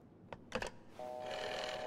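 A telephone rings inside a horror video game, This Bed We Made: a few quiet clicks, then a faint, steady ringing tone that holds until the end.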